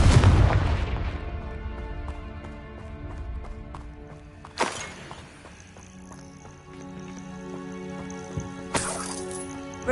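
Confringo fire spell blasts in Hogwarts Legacy: a heavy boom at the start, then two sharper cracking bursts spaced a few seconds apart over low rumbling game ambience.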